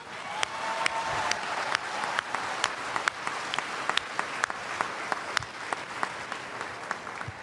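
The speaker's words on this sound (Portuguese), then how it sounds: "Eu vou aplaudir, está muito bom isso." A church audience applauds during a sermon with steady, dense clapping that continues throughout at moderate loudness, a few sharper claps standing out, with no talking over it.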